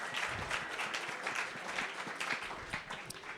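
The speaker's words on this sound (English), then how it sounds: "a hand of applause and gratitude for the EDCO team putting on this event" An audience at a Central Oregon PubTalk gathering applauds in a steady, moderately quiet patter of many hands that continues for a few seconds without talk.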